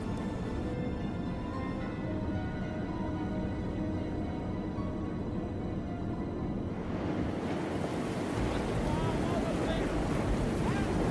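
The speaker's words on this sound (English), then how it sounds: "A storm front moves in, threatening the operation." Stormy open ocean rolls with heavy waves and gusting wind as a storm front moves in over a deep-sea operation. The roar is constant and rumbling and swells louder toward the end, with a narrating voice over it.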